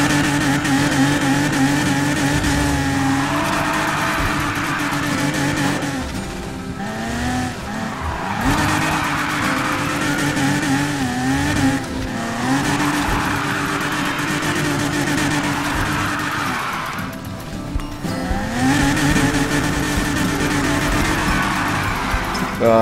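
A Nissan 370Z in Need for Speed Heat drifts and spins out, its engine revving and falling through repeated slides while tires squeal in long loud sweeps, close and continuous.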